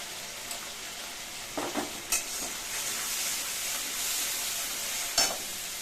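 Spices with turmeric stir-fried in a pan over lowered gas make a soft, continuous sizzle, with occasional scrapes and light clinks of a spoon against the pan, close and fairly quiet.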